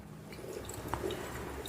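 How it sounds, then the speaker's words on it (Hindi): A Morphy Richards New Europa 800-watt espresso and cappuccino machine dispensing hot water, giving a soft, steady trickle and wet squishing sound with a faint drip, heard close and without talking. "पानी गिरना शुरू हो गया।"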